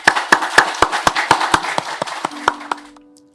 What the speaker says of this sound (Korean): 그 주님께 감사와 찬양의 박수 올려드립니다